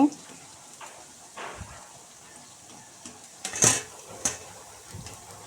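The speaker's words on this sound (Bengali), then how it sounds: "উল্টিয়ে পাল্টিয়ে এটা ভেজে নিতে হবে" Cabbage pieces fry in a pan with a faint, steady sizzle, broken by occasional clinks and scrapes of a utensil turning them, all quiet and close.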